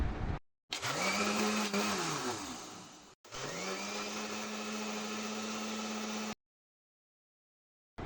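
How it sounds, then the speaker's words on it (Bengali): Kitchen blender whirring loudly as it blends milk and sugar for cold coffee, running in two steady bursts with a brief pause between them and a sudden stop at the end; no talking. "এগুলো 1 মিনিটের জন্য ব্লেন্ড করে নেব, যাতে চিনিটা গলে দুধের সাথে মিশে যায়।"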